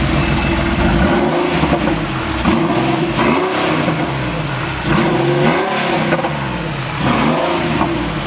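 A 1996 Porsche 911 Carrera's engine revs repeatedly close up, rising and falling through several throttle blips over a steady idle, loud and continuous with no talk.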